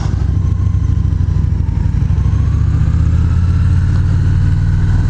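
A Victory Magnum motorcycle with a big 21-inch custom front wheel rumbles on a demo ride, its engine a loud, steady low drone that climbs gradually as the bike pulls along.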